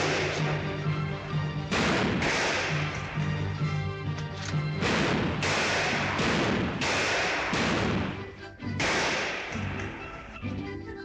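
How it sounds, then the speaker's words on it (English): Gunfire in a comedy western film, a run of loud sharp shots and cracks bursting repeatedly over a dense, continuous music score, with heavy impacts spread across the whole scene. "He's doing some mighty fancy shooting."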